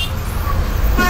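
A bus horn honks briefly near the end while the bus waits to depart in Vijayawada, standing out over steady low engine rumble and traffic noise.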